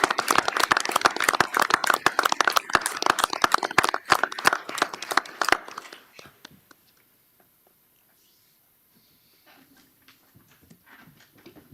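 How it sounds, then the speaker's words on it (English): A small group at a municipal board meeting claps sparsely for police officers being promoted, with distinct individual claps for about six seconds. The clapping stops abruptly, and quiet murmurs and faint talk follow. "Please join me in a round of applause for these 8 officers"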